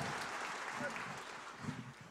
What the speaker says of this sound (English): Would you please give our future global citizens a big round of applause?